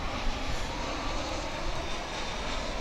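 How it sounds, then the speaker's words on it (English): An American Airlines Airbus A319 comes in to land at DFW International Airport, its jet engines a steady, broad, unbroken roar that holds at even loudness throughout, with no voices over it. "Looks like an A319, American Airlines."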